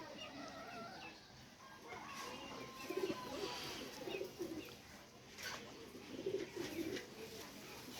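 Pigeons on a Bengali poultry farm coo in soft, repeated low bursts at moderate distance, rising over a steady background hum with a few faint clucks of other fowl.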